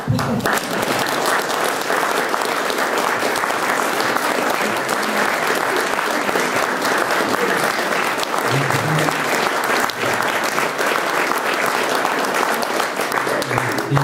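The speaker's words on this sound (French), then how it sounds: "d'applaudir le couple qui nous reçoit" Young people and guests at a Légion d'Honneur decoration ceremony give the hosting couple sustained, dense applause from many hands, steady and fairly loud throughout, with faint voices underneath.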